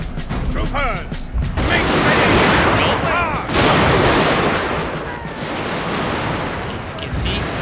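Artillery fire in the strategy game Total FotS, a heavy barrage of booming shots and rumbling impacts with crackling gunfire, loud and sustained, with a voice talking over parts of it.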